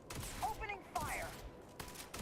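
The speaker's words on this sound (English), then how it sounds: "Opening fire!" Gunfire in the space game Starfield cracks out in a few short bursts, mixed with whooshing laser-like effects and game sounds, moderately loud and close.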